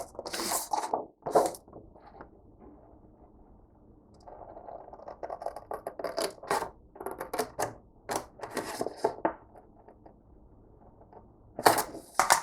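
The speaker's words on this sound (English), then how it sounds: "So I'm just going to take my scissors really quick." Scissors snip through paper in a series of short crisp cuts with brief pauses between, close and fairly loud.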